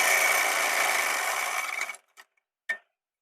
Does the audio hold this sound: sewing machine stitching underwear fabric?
yes